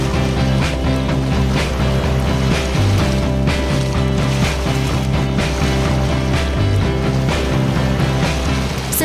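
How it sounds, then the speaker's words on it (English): An old sailboat's motor pushes hard into a 20-knot headwind, a loud steady engine drone with rhythmic thumps as the hull slaps through waves and wind rushes past. "We're hammering the motor a bit."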